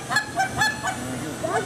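A hunter-division competition goose call imitates honking geese, a run of about eight sharp, nasal honks in quick irregular bursts, loud and close, with no one speaking.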